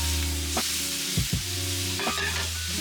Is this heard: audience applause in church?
no